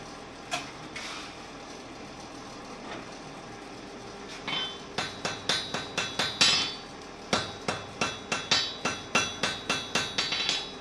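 A blacksmith hammers hot steel at welding heat, sharp ringing blows on the anvil coming in quick rhythmic bursts after a few scattered strikes, loud and close with no talk.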